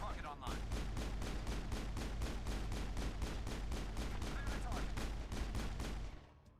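Rapid automatic gunfire in Mass Effect rattles in a fast, evenly spaced stream of loud shots for about six seconds, then stops abruptly, with no talk over it.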